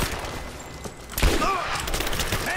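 Gunfire in the video game Rise of the Tomb Raider: a loud burst of rapid shots and a heavy impact, then a continuing rattle of fire layered with game effects.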